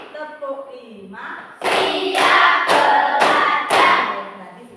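After a teacher's voice, an Indonesian primary science class claps in unison on a count. Five crisp, loud, evenly timed group claps follow one another in steady rhythm.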